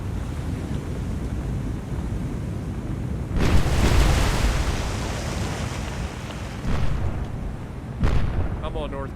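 Naval guns firing armour-piercing rounds in the game War on the Sea, a heavy boom around the middle followed by further shots, over a constant wash of sea and wind.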